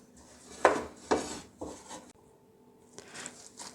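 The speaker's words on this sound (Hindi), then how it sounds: "अब हम इसमें मैदा डाल के चम्मच चला लेंगे" A metal spoon clinks and scrapes against a pot while stirring flour into melted ghee, a few distinct knocks followed by softer scraping, close and fairly quiet.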